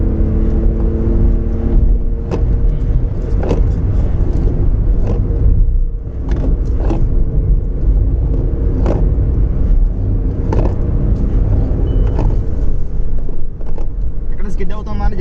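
Volkswagen Polo driving at close to 80 km/h, heard from inside the cabin: a steady low engine and road rumble with whirring tyre noise and occasional bumps, while someone talks over it throughout.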